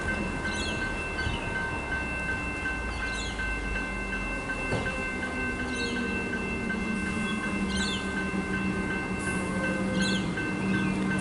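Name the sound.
suburban electric train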